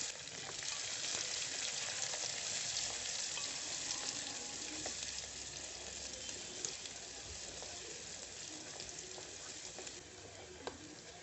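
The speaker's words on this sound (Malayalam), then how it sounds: "വെളുത്തുള്ളി ഒന്ന് നന്നായിട്ട് മൂത്ത് വരണേ" Garlic, a large onion and a few hot green chillies sauté in a pan for a chana dal curry, giving a steady, even hiss of frying oil, fairly quiet, with a couple of faint spoon taps near the end.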